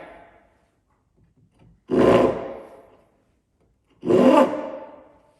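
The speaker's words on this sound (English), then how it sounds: "pull backwards, gently letting the saw catch the timber" Hand saw cutting timber for a mortice and tenon joint, two separate rasping strokes about two seconds apart, loud and close after a quiet start.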